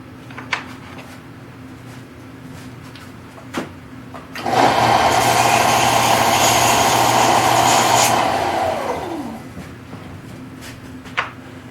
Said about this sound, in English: I'm just using my belt sander.